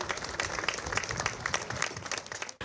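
Warm, continuous applause from a festival crowd at a grape harvest celebration, many hands clapping together in a dense, steady wash that holds for a few seconds before cutting off abruptly.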